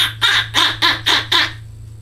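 A human voice imitates a duck call: five quick, raspy quacks in a rhythmic row, loud and close, then silence.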